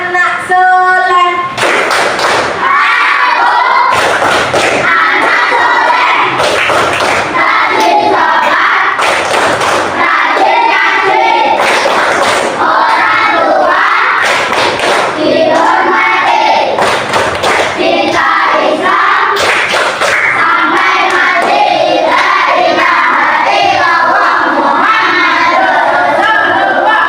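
Children in an Indonesian Islamic religious education class clap out the rhythmic tepuk anak soleh chant together, loud, repeated bursts of group clapping with chanting voices over a busy, crowded room.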